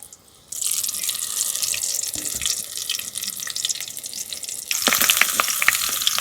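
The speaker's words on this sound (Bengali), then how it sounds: "আবার ওইভাবে কিন্তু ভেজে নিচ্ছি।" Gourd-leaf rolls stuffed with coconut and prawn deep-fry in hot oil, a steady bright sizzle that surges louder and crackles more sharply near the end as fresh pieces go in.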